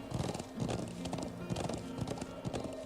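Horse hooves clip-clop in a steady, rapid galloping rhythm in the Trails of Cold Steel video game, close and continuous.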